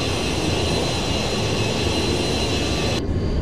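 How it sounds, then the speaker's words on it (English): A Boeing 707 in the FSX flight simulator gives a steady, loud, broadband jet engine growl and roar heard from outside the aircraft, continuous for the whole stretch with a slight drop in the highs near the end. "So you get that weird engine growl even when you're outside."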